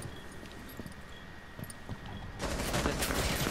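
Bursts of gunfire from a Rainbow Six Siege match, a dense volley of shots that swells louder in the final second after quieter scattered noise, with no talking.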